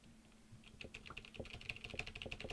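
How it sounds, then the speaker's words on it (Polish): Quiet, close clatter of a computer keyboard, with rapid irregular keystrokes that grow busier during play, alone without talk. "Słyszycie moje klepanie w klawiaturkę?"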